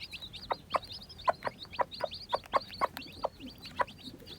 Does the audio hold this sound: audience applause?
no